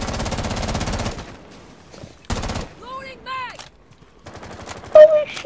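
Gunfire in the Rainbow Six tactical shooter video game, a dense burst of rapid shots up front and another sharp burst midway, with tonal game effects and shouting voices between.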